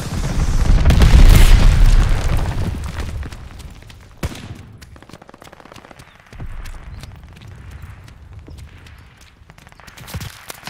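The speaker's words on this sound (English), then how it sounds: "Glide bomb, ready for target." A glide bomb blast in the Call of Duty: Vanguard video game lands as a loud, deep rumbling boom that swells and fades over a couple of seconds, followed by scattered gunfire and smaller bangs in the background.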